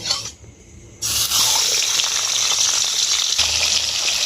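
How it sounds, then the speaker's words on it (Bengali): A fish head dropped into hot mustard oil in a kadai, a brief quiet moment followed by a sudden loud burst of close, hissing sizzle that holds steady to the end. "তেলটা গরম হয়ে গেছে এবার আমি মাছের মাথাটা দিয়ে দেব"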